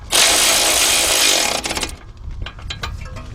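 A 17 mm nut is driven tight with a 3/8-drive deep socket on a 2010 Honda Accord 2.4 front strut assembly: a loud, close powered whirring burst, then a run of sharp rattling clicks as it seats.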